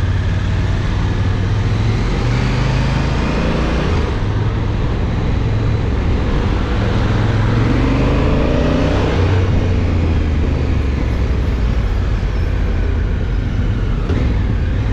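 Honda Africa Twin motorcycle engine running steadily while riding through city traffic, a continuous loud low rumble with wind noise throughout and no clear revving peaks.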